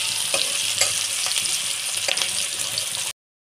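Onions sizzling and frying in hot oil in a pan, a steady close crackle with scattered louder pops and faint stirring scrapes, no voices, cutting off abruptly after about three seconds.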